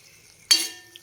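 Half a glass of hot water hits a simmering cauliflower masala curry with a sudden loud hiss that fades over about half a second, followed by a faint clink.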